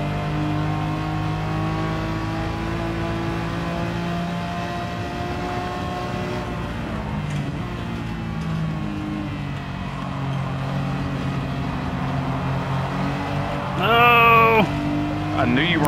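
BMW E46 M3 race car in the Gran Turismo 7 video game at the St Croix track, its engine droning steadily with rising and falling pitch as it revs, under ongoing talk, with a sharp squeal near the end.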